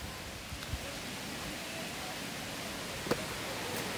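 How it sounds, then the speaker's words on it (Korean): Soft, steady rushing of an outdoor stream fills the background, a continuous gentle wash with no voices. "지금 물소리 들리시죠?"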